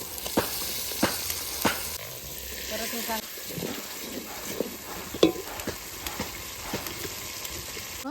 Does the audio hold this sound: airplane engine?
no